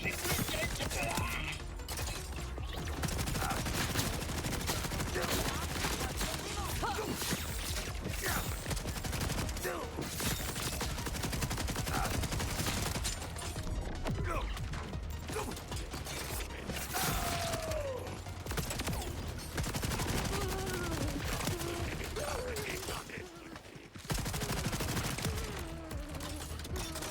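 Gunfire in the video game Borderlands 4, with dense bursts of automatic shots, mechanical clanks and weapon handling over a busy game soundtrack, loud and nearly continuous with brief lulls.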